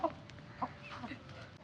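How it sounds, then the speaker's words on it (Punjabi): A sturdy desi rooster of a rare Punjabi fighting breed gives short, soft clucks in a few scattered bursts, fairly quiet and close, with low background murmur. "ਇਹ ਜਨਾਬ ਸਾਡੇ ਕੁੱਕੜ ਨੇ, ਬੜੇ ਤਗੜੇ ਕੁੱਕੜ ਨੇ।"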